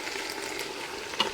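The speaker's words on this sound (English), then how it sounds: "Stir it all through" Pork and canned chopped tomatoes being stirred in a pressure cooker pot make a steady wet sizzle and a soft scraping, close by, with one brief sharper clink near the end.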